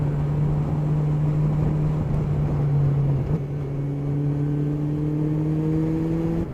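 Motorcycle ridden on a smooth, well-surfaced road heading out of Oban toward Fort William in Scotland, a steady engine drone with a rising pitch as it accelerates, continuous and close, with no talking.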